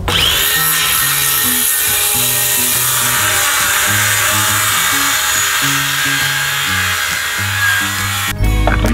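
Power saw cutting thin plywood during a garden shed conversion, a steady loud whine running the whole clip with a grinding buzz, stopping abruptly near the end.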